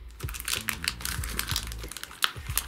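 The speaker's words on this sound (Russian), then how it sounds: "Слишком плотно сидит упаковка в пакете. Просто пакет разорвем." A plastic packaging bag around a Nubia Z17 Mini smartphone is torn open by hand, giving close, crinkly rustling and sharp crackling bursts throughout.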